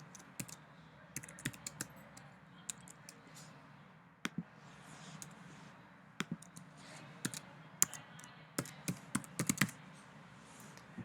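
Fingers type on a computer keyboard while filling in a name on an online medical form, a steady run of close, irregular key clicks with a few sharper taps and brief pauses, and no talking.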